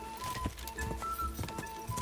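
A horse canters in Kingdom Come Deliverance 2, its hooves striking in a steady repeating three-beat clatter, close and clear over soft background ambience.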